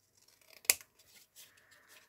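Paper being cut with scissors while making a handmade witch hat box: one sharp, close snip stands out, with soft rustling and small handling noises before and after in a quiet room.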